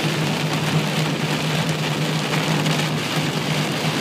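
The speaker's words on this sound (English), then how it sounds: "What do you think of the rain," Heavy rain pours steadily onto a car during a summer drive, a dense, loud, even hiss of drops drumming on the body, with a low steady hum underneath and no talking.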